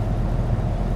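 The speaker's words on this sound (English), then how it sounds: "I feel like it's better to hear the truck" Heavy haul truck grossing 107,000 lbs grinding up a steep mountain grade at about 18 mph, a loud, steady low engine drone close to the cab that holds constant without a break.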